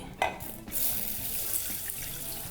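Tap water running into a cup in a home kitchen while preparing rice, a steady hiss of flowing water that starts after a brief clatter and continues evenly near the microphone.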